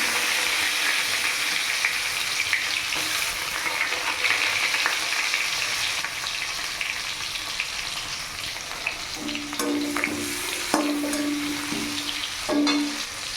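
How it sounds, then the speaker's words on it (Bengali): Grated coconut fries in oil in a home kitchen, a steady close sizzling crackle with occasional stirring scrapes and a few brief tonal beeps toward the end. "এখানে নারকেল কুচি ভাজা হয়ে গেছে"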